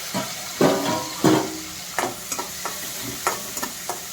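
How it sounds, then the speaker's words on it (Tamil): Garlic sautés in hot oil with dried red chillies for a drumstick-leaf kootu, the spatula clattering and scraping through the pan in a few strong strokes, then lighter taps over a steady sizzle. "பூண்டும் போட்டு நல்லா வதக்கணும்"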